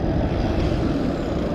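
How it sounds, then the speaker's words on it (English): An airplane comes in near Heathrow Airport, a continuous roaring drone heard outdoors at moderate distance. "And planes are coming in."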